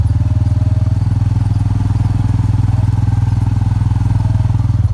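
A Massimo/Hisun 700 UTV side-by-side engine runs while driving, a loud, close, steady pulsing rumble throughout.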